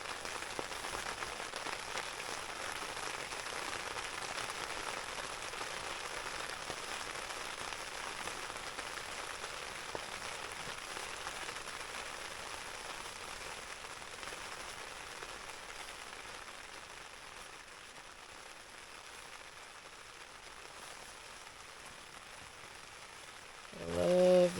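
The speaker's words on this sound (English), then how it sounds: "I love the sound of the rain on the tarp." Rain patters steadily on a tarp over a lakeside fishing camp, a soft continuous hiss of drops holding even for over twenty seconds before a brief louder rustle at the end.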